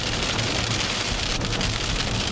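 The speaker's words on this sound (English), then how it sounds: "Stupid rain." Heavy rain pelts steadily on a vehicle during a Minnesota tornado-outbreak storm chase, a dense, continuous loud roar with no talk.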